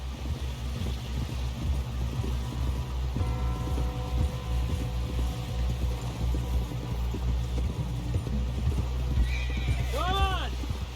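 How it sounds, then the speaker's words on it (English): Horse hooves clip-clopping steadily in the video game Red Dead Redemption 2, under continuous talking, with a horse whinny near the end, over a low rumbling background. "Someone help John down off this horse"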